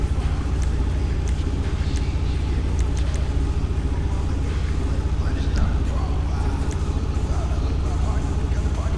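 Steady low engine drone of a Massacro sports car cruising in GTA V, continuous and fairly loud throughout, with speech heard over it.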